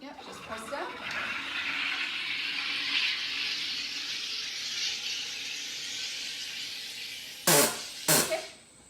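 A home sparkling water maker forces gas into a bottle of water with a long steady hissing, fizzing rush, ending in two short sharp bursts as it releases pressure.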